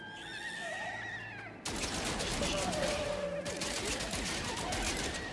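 Weapon fire in the No Man's Sky game: a burst of rapid, dense shots rattling continuously after an earlier wavering tone, loud and busy.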